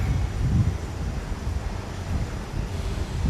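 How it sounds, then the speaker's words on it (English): Wind buffets the microphone outdoors on a city street in Osaka, a continuous low rumbling roar of gusts with no talking. "too much wind"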